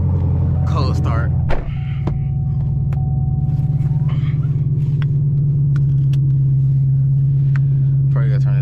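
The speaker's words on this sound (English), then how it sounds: "Cold start." A six-speed Chevrolet Camaro ZL1 V8 idles after a cold start at night, a deep, steady, close rumble with a brief sharp burst early on and a few faint voice sounds over it.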